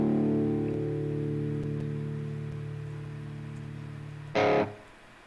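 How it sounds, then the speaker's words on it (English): An electric guitar with slight distortion holds a chord that rings out and slowly fades, then a brief, louder strum bursts in near the end. "Just got a little bit of distortion to it."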